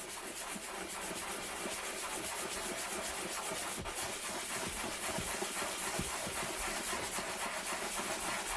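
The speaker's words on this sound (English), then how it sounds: "So let's sand it just a little more." Steady, gritty rubbing of sandpaper on a part of a rare Continental TP410 reel-to-reel tape recorder, continuous back-and-forth strokes heard close and fairly quiet throughout.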